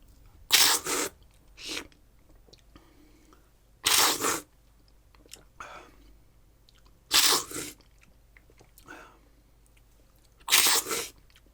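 Someone loudly slurps pour-over coffee to taste it, four sharp airy slurps spaced a few seconds apart with small mouth sounds and quiet pauses in between.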